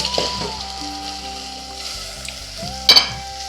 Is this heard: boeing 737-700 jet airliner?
no